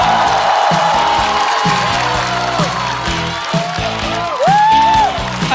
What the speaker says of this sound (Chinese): 掌声欢迎毛豆